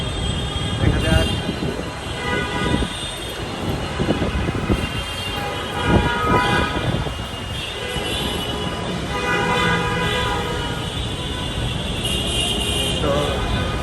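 Dhaka metro rail train running near Karwan Bazar station, with a steady rumble and rolling mechanical noise as people talk over it throughout.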